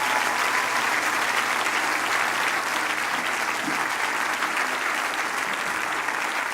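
A church congregation claps and applauds steadily and loudly, a dense wash of clapping holding at an even level from start to finish with no voices standing out.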